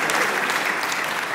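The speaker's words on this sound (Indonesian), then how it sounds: "Tepuk tangan buat Tiara" A school audience at a motivation event in a Jakarta senior high school claps together: full, continuous applause from a large crowd, even and unbroken, with no voices over it.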